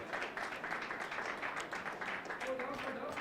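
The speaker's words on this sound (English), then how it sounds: "Big round of applause" Applause from the audience at a chef's cooking demonstration, a dense run of close, steady clapping that carries on throughout.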